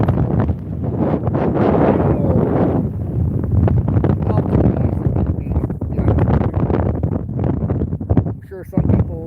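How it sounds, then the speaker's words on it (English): Strong wind buffets the microphone out on the ice during ice fishing in Michigan, a loud, continuous low rumble of gusts that nearly swamps someone talking throughout. "the wind's kicking up quite a bit, I think"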